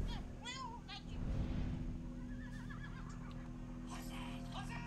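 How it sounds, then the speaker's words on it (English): Horses in the video game Assassin's Creed Valhalla give shrill, wavering neighs, a clear whinny at the start and fainter ones later, over a steady low in-game ambience. "Horses! Horses!"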